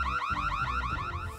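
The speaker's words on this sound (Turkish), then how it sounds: "Alarm sistemi oldukça sağlam kurulmuş" Loud electronic alarm siren wailing continuously in a cardboard prison escape setting, a rapid repeating warble sweeping up and down with no speech over it.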